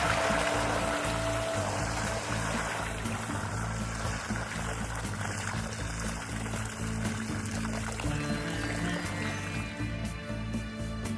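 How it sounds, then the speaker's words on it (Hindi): Water pours steadily onto a farmer's field from a clay pot, a continuous gushing splash that stays loud and close for the whole stretch and tapers slightly toward the end. "उसने वो पानी अपने खेत में डाल दिया।"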